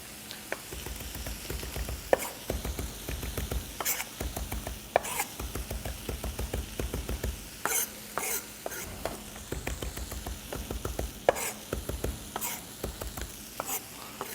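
A knife roughly chops fresh Italian flat-leaf parsley on a board, making steady, rapid thuds and taps in close, uneven bursts that pause briefly and then resume, with no talking.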